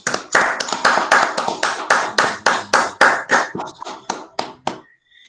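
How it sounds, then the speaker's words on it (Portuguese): An audience at a scientific initiation symposium claps in a brisk, fairly even rhythm of close, sharp slaps that thins out toward the end and stops, with no voices. "vocês merecem muito mais do que esses aplausos aqui"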